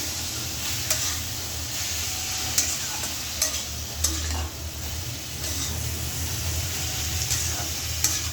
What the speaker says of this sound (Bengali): এখানে কাঁচামরিচ আর পেঁয়াজ দিয়ে দিছি।